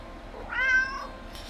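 A single cat meow from a video game, a clear, drawn-out tonal cry heard close and alone against a low background hum.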